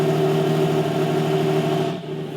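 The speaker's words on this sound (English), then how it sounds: "take a listen to this naturally aspirated V12 engine" The naturally aspirated V12 of a Lamborghini Revuelto supercar drones loudly and steadily at close range for about two seconds, then its pitch and volume drop abruptly as the revs fall away.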